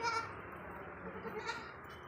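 A single goat on a farm of Hyderabadi Beetal and crossbred goats bleats twice, fairly faint and close, against a quiet murmuring background.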